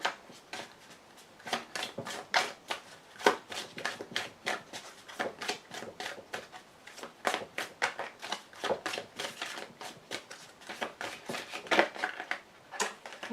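A deck of tarot cards is cut and handled up close, a long run of quick papery flicks and shuffling snaps in an uneven rhythm, with no talk over it.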